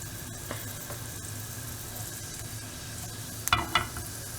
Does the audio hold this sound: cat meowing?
no